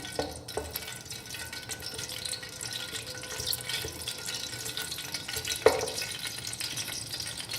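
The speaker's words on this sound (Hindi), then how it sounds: "इसको मैं ऐसे 1 से 2 दफ़ा चम्मच से हिलाऊंगी।" A spoon stirring a shalgam gosht (turnip and meat) curry in a pot, with soft wet scraping and a faint sizzle, quiet and close, plus a single brighter clink near the end.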